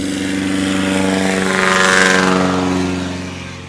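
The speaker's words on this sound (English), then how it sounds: "That is a loud airplane." A loud propeller airplane drones close by at a small airport during an air-race practice, its engine roar and buzzing propeller swelling as it nears and easing slightly as it moves on.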